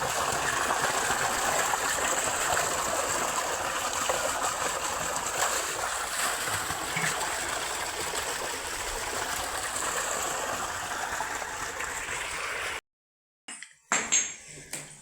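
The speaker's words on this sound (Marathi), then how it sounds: "तर आता पाणी पण भरून झालं" Water rushes steadily into containers during a village morning chore, a constant gushing flow that runs for most of the stretch before cutting off abruptly, followed by a few brief clatters.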